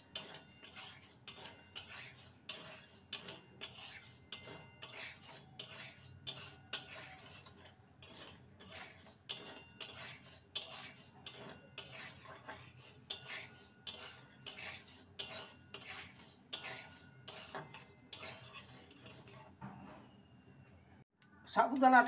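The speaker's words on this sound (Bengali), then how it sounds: "লো টু মিডিয়ামে রেখে সাবুদানাটাকে ভেজে নিতে হবে।" Sago pearls dry-roasted in a pan over low to medium heat, with a spoon scraping and tapping in a quick, regular stirring rhythm for close to twenty seconds before it stops.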